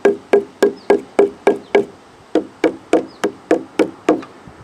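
A hammer-like blow on a deck board resting on a rubber strip produces a quick series of close, sharp knocks in two bursts with a short pause between, dull and evenly spaced.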